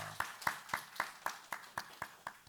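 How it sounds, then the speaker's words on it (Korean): A congregation at a church Sunday worship service claps in a slow, regular beat, about nine distinct claps spaced evenly, moderately close with faint background voices. "박수하겠습니다"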